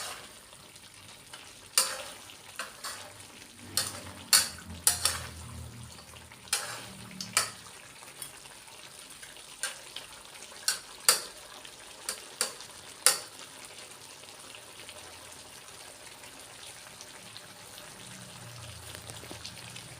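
Chicken stir-fried with holy basil and curry paste in a pan: a soft continuous sizzle with repeated sharp scrapes and clacks of a utensil stirring, close and irregular.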